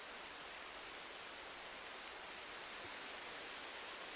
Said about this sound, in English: that rain got loud again